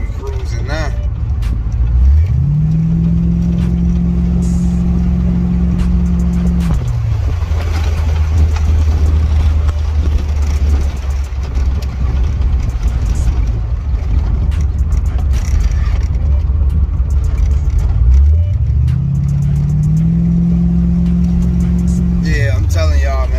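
A C4 Corvette with its exhaust resonator deleted idles with a deep rumble, then revs twice, the engine note swelling, holding and dropping back each time. It is loud and close, with voices talking over the idle.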